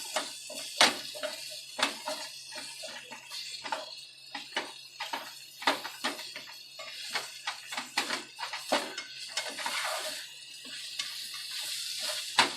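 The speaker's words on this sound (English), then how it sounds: "Just take the little spatula and just cut them into chunks." A small spatula chops and scrapes through sweet potato in a pan, with irregular close taps and scrapes over a faint steady sizzle.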